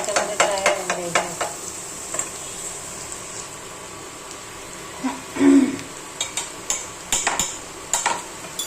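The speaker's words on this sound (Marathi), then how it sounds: "आता ही रेड चिली ना याच्यामध्ये फ्राय होऊन द्यायची." Red chili and onion frying in hot oil in a pan, with a low sizzle under intermittent stirring scrapes and utensil clinks, a louder burst midway and no talking.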